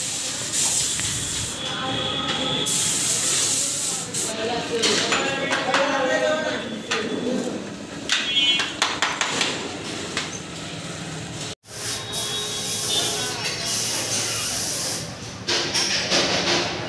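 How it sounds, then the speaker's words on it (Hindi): A pressure spray washer hisses steadily over an Apache RTR 160 4V BS6 motorcycle at a service center, loud and continuous with brief breaks and faint voices in the background. "बाइक को नहा धो के तैयार किया जा रहा है अगले पड़ाव के लिए।"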